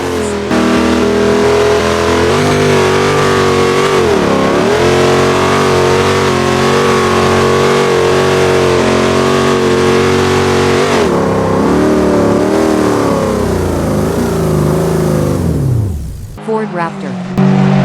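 Pickup trucks such as a Ram 2RX in the BeamNG Drive driving game take on a run of speed breakers, with a loud, steady engine drone rising and dipping in pitch before cutting off abruptly near the end; individual bump impacts are not distinct.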